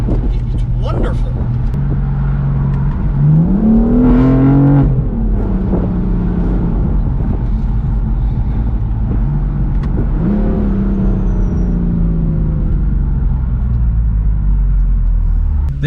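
BMW M4 exhaust droning steadily while driving, with engine note rising in two revving surges, heard from inside the car under continuous talking.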